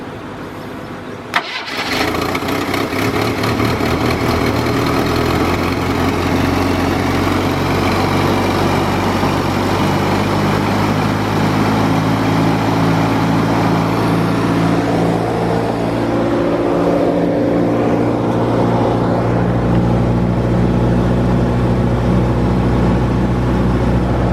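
A Jeep Cherokee Pioneer engine cranks and catches after sitting 24 years, running on decade-old gas, then settles into a loud, steady, rough idle that continues close by without talk.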